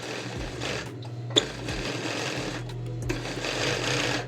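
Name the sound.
sewing machine stitching a seam on a blouse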